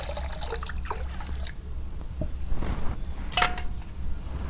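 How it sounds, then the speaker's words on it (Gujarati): Water is poured onto grated raw mango in a vessel for sharbat, giving a close trickling splash with a few light clinks of utensils in a village kitchen. "હવે એમાં પાણી નાખી દઈએ."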